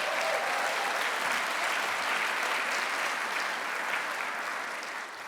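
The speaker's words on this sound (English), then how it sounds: "you better clap for that" An audience breaks into sustained applause, a dense wash of clapping that holds steady and begins to fade near the end.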